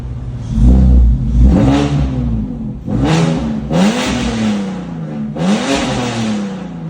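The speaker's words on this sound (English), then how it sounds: "Now, this engine did run, it did rev good" BMW M54 straight-six with a straight-pipe exhaust, welded rear diff and cheap cold air intake, revved loudly in three rising and falling bursts, raw and unmuffled, with no voices over it.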